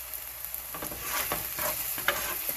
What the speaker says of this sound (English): Let that continue to fry a little more, maybe for about 1 to 2 minutes before I add my spinach.